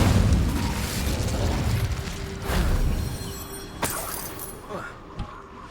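Incendio fire spell in Hogwarts Legacy on Xbox Series X: a heavy booming burst at the start, a sharper blast near the middle and a few smaller pops fading out.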